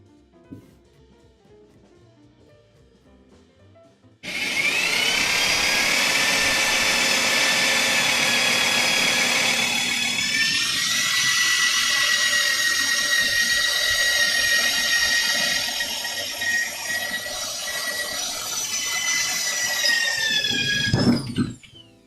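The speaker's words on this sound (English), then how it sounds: "That's about as much as I'm willing to drill this now." A power drill bores into wood for a Japanese joinery sawhorse, switching on after a quiet start and whining loudly and steadily with pitch dips as it bites, then cutting off sharply near the end.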